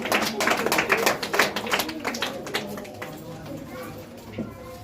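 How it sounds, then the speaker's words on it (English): A quick run of sharp hand claps sounds close by in an uneven rhythm, then fades to quieter, scattered taps. "Clapping."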